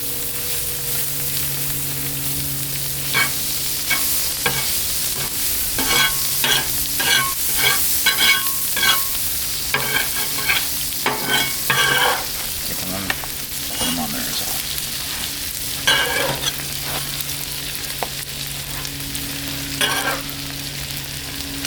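Crunchwraps fry in butter on a Blackstone griddle, a steady close sizzle punctuated by repeated scraping and tapping bursts from a spatula, with quieter stretches of bubbling in between.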